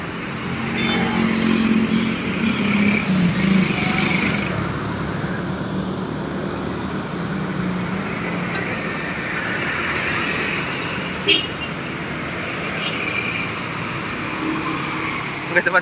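Motorcycle riding on a city road and pulling away from a green light, a steady engine drone that swells early and then holds, with traffic noise around it.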